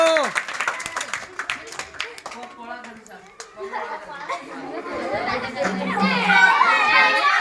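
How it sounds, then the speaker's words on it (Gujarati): Children clapping and cheering in a noisy, lively crowd during a children's game, with kids talking and shouting throughout; the clapping swells louder toward the end. "જોરદાર તાળીઓ"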